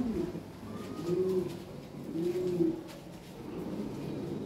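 Lahore Siraji pigeons coo in soft, repeated rolling calls, several distinct coos spaced about a second apart, fairly close against a low background hum.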